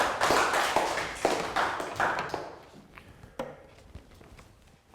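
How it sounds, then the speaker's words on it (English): A class of young pupils clapping together after a maths lesson question, a short burst of applause that quickly thins out into a few scattered claps. "Round of applause."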